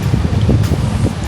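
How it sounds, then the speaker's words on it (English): Brief, loud wind rumble batters the microphone in quick low gusts, with no voices. "it's so windy."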